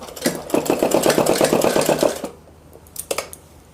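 An electric sewing machine stitches a suit in a fast, even run of needle clatter lasting about two seconds, close and loud, then stops, leaving a few soft handling clicks.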